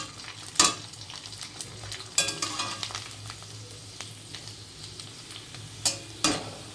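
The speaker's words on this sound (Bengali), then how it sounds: "এইভাবে পাপড়গুলো আমি ভেজে দেব।" Carrot papads fry in hot oil in a wok, giving a steady close sizzle broken by several sharp crackling bursts as each one hits the oil.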